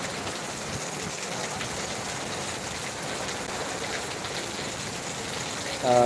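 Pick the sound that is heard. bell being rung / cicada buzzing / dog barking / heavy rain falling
heavy rain falling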